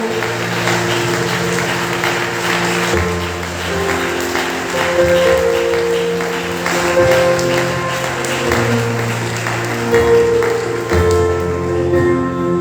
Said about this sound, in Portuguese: E receba o nosso louvor, o nosso aplauso, para a honra de glória do Senhor